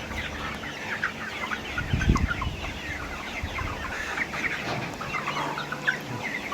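Many Tiger breed chickens in a shed cluck and chatter together in a steady low-level murmur, with occasional sharper calls and some shuffling noise.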